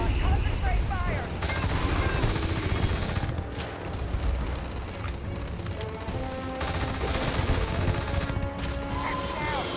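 Sustained video game gunfire, rapid overlapping bursts of automatic weapons fire with heavy booms, loud and continuous under bits of game sound effects.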